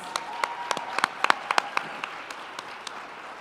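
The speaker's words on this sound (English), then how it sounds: "Please give them one more round of applause." Audience applause for award winners at a district Teacher of the Year gala, a thin, scattered round of individual claps, sharp and distinct at first, then trailing off into a few isolated claps.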